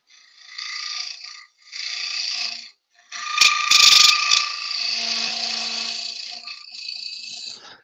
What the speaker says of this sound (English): This is making a lot of noise because obviously spindle gouge is a long way over the tool rest and the wood is a long way away from the chuck.